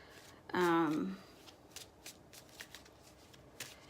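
Tarot cards shuffled by hand during a reading, a short brisk riffle of about half a second standing alone, followed by near silence with a few faint rustles.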